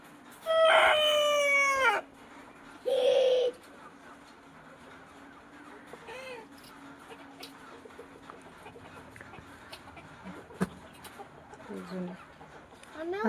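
A rooster crows loudly nearby, followed by a shorter call and scattered softer clucks and calls from chickens in a quiet rural yard.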